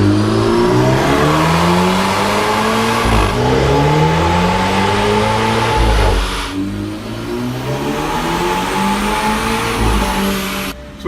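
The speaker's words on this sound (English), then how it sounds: "Time for getting the results, and that means time for another dyno run." A car run on a dynamometer after a new part is installed, engine revving hard through repeated rising pulls with sharp drops between gears, loud and close with no talk.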